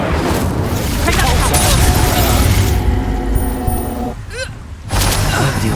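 An Incendio fire spell cast in Hogwarts Legacy: a loud, roaring whoosh of flame with rumbling booms, continuous and dense for several seconds before a brief dip and a renewed rush.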